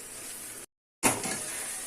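Tomatoes sautéing in a pan for a tomato tamarind relish give off a steady broadband sizzle. The sizzle breaks off for a moment of silence, then comes back louder and more forceful, with no voices.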